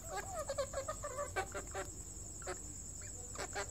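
A pet hen clucks in short soft bursts while pecking at fresh herbs and mint indoors, with a high steady whine running underneath and brief quiet gaps between the calls.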